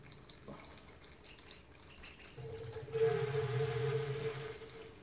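Pump pushing brewing wort through a chiller into a fermenter, a steady watery flow and motor hum that swells in about halfway through and holds loud to the end.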